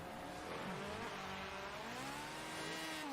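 Two drift cars, the Devil Z and an RX-7, battle in a competition, their engines holding a sustained distant roar with rising and falling revs under a constant wash of crowd and track noise.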